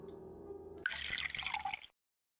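A tap running in the video game The Kite, a brief hissing splash of water lasting about a second after a soft tone, then cutting off abruptly into silence.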